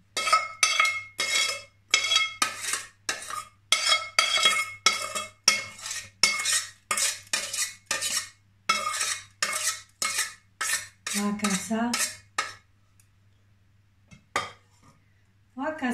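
Leftover hibiscus castor oil is strained into a pot with a steady run of metallic clinks and scrapes, close and fairly loud. The clinks stop near the end, leaving near silence with a few faint knocks.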